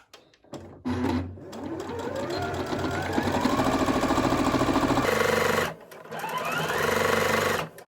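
A sewing machine runs continuously along the hem of a shirred summer top, stopping briefly and restarting, with steady close mechanical whirring and a short pause for the back-stitch.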